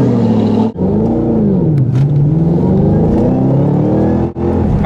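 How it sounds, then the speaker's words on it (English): A Ford Mustang Shelby GT500 pace car engine roars loudly from inside the cabin, pitch rising and falling as it accelerates through gears on a NASCAR track, with a couple of brief dips. "We're gonna go for a pace car ride in this Ford Mustang."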